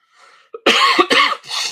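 A person coughs a few times in quick succession, harsh and close, after a faint throat sound.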